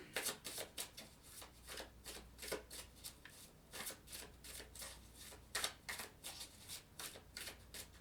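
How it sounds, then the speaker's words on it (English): Tarot cards being shuffled close up, a rapid riffling patter repeating in short bursts with brief pauses, no voices. "so let's shuffle a little bit"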